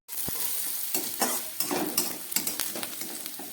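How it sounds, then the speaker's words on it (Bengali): Onion and garlic frying in a pan while being stirred, a steady sizzle broken by scraping spoon strokes and light clinks, close by with no talk. "পেঁয়াজ রসুনটাকে এবার একটু ভেজে নেব।"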